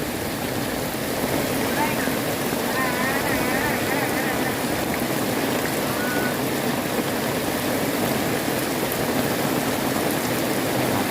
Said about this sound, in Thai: แต่พอตอนนี้ก็ยังไม่หยุดนะครับยังตกแรงอยู่นะครับตอนนี้เนาะ